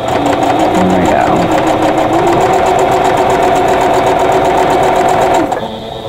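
A sewing machine runs continuously, stitching a quilt block seam with a fast, even mechanical chatter, close and loud, slowing and stopping near the end.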